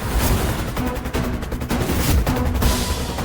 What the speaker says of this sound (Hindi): असली बात तो ये है कि बिंदिया ने तुम्हारी बात पर यकीन कर गोली चलाई।